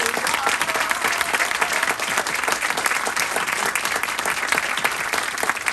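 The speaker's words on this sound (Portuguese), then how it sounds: "Eu queria que vocês dessem um aplauso caloroso novamente para os nossos convidados de luxo" A live audience at a music event gives guest performers warm applause, a loud, continuous wash of clapping with a crowd murmur underneath.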